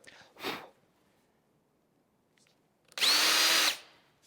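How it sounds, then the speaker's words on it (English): Power drill whirs in one short, loud burst of under a second while drilling out small prongs in casework, after a faint brief rev and quiet handling. "Getting those 3 little prongs drilled out really helps this set a whole lot better"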